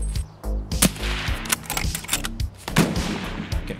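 Rapid gunfire in the video game Escape From Tarkov: loud, close bursts of shots crack in quick succession, some spaced singly and others in tight volleys.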